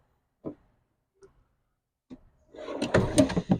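A caravan door on a Ducato-based camper opens with a couple of soft, isolated clicks and knocks, then a louder burst of rattling and clattering handling noise close by, with no voices.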